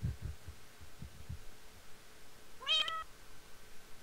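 A cat meowing in a video game, one short rising meow sounding clearly once, after a few soft low thumps, quiet and alone with no talk.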